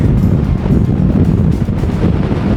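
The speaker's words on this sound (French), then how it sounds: "Et qui dit sommet dit vent, comme d'hab" Strong wind buffets the microphone on a mountain summit in New Zealand, a loud, continuous roaring gust with no letup.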